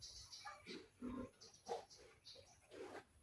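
Pigs kept in a backyard pen give a series of short, quiet grunts and snorts at irregular intervals, faint and spaced apart with low background noise.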